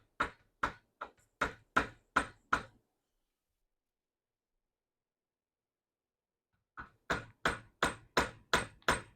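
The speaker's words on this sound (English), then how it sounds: "We're going to use a rubber hammer to start out with" A rubber hammer strikes an old pistol slide sight in rapid bursts of about seven sharp knocks each, the two runs separated by several seconds of silence.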